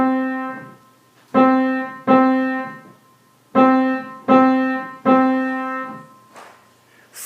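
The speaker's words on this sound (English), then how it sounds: "If I played this rhythm on a piano," Single piano notes struck in a simple quarter-note rhythm, two groups of three evenly spaced hits separated by a rest, each note ringing clearly and fading alone.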